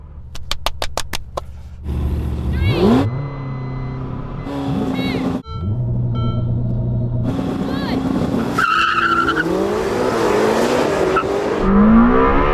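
A Lamborghini Temerario and a Ferrari SF90 drag racing side by side, revving hard, then launching with tire squeal and rising engine roar through quick gear changes, loud and close, with excited talk over it.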